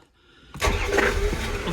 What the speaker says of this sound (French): On fait un peu tourner le moteur.